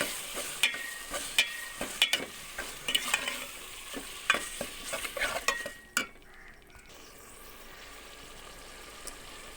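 Boiled whole mung dal stirred in a pan, a run of brisk scraping and clinking strokes over a soft sizzle that stops partway, leaving a quiet hiss.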